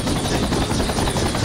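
Helicopter rotor and turbine drone from the Project Reality combat game on the Saaremaa map, a loud, steady, close whine that holds without a break across the short clip.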